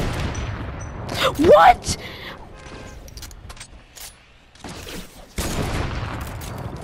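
Gunfire in a shooter video game, with shots knocking down built stairs: sharp bursts of shooting cluster in the first two seconds, followed by quieter scattered game noise. A player exclaims over it.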